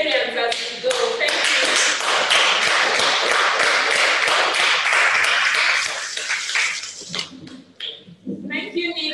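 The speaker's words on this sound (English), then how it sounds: "So we can clap for all the humanitarians as we go." Webinar participants clap together in a dense burst of applause that lasts several seconds and then tapers off into scattered claps, with speech following.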